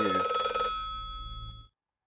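An old-style telephone bell rings loudly and close, then cuts off, leaving a fading metallic hum and decaying tone before silence.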